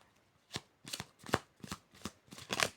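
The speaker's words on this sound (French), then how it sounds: "Attends, je vais prendre d'autres cartes." Tarot cards being handled and shuffled, a series of six or seven quick riffling bursts heard close and alone, with no talk.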